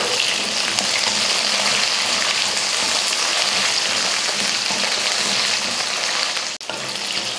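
Whole shallots and garlic cloves sautéing in a hot pan, giving a steady, dense sizzle and crackle that holds evenly throughout, with a brief clink near the end.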